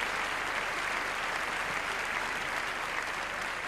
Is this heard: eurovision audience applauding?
yes